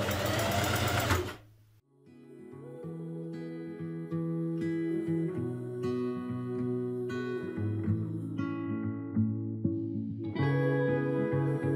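A sewing machine stitches a blouse seam and back tacks, its steady whirring motor running loud and close almost without pause after a short louder burst at the start, with no talk.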